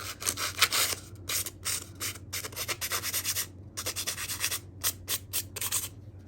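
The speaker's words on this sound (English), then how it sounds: "I'm going to take it and I'm going to just lightly sand like the edges." Paper edges lightly sanded by hand for a junk journal tag, giving close, dry scratchy rubbing strokes in short repeated bursts with brief pauses between them, over a steady low hum.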